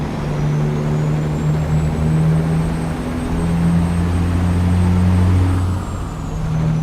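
Heavy truck engine in American Truck Simulator with a twin-stick gearbox, running empty: a loud, steady low drone with a rising and falling high whine, an even sustained rumble that stays loud throughout.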